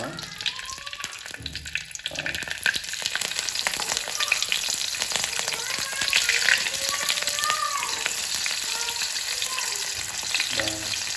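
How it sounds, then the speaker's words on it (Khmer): Fish fries in hot oil with a steady, dense sizzle and crackle that runs the whole time, close and fairly loud, with occasional stirring and a voice speaking over it. "ននេះគឺត្រីចៀនបែបថ្មីសម្រាប់ខ្ញុំបាទ"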